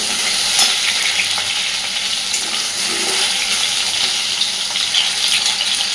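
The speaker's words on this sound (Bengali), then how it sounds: "সুন্দর করে আমি আলু কপিটাকে ভেজে নেব" Potatoes and cauliflower florets fry in a pan, producing a loud, steady hiss of sizzling oil that runs unbroken for the whole stretch, heard up close with faint stirring underneath and no speech.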